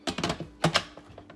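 Instant Pot lid closing, a quick series of close plastic and metal clicks and clatters, with a couple of fainter ticks as it settles.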